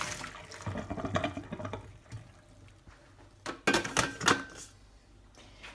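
Dirty rice rinse water is poured out and drains down a kitchen sink, a soft watery gurgle followed by a louder splashing burst near the end, close and alone.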